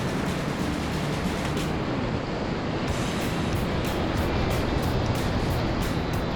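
Rapids on Johns Creek rush past as a constant loud roar of churning whitewater, a dense, unbroken wash of noise through the whole stretch.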